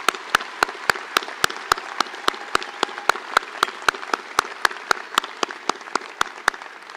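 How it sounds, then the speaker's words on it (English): Audience at a university convocation ceremony breaks into steady applause, sustained and fairly loud, with a sharp, regular clap-like beat running through the whole stretch. "Let's have a round of applause for our Bronze Tablet."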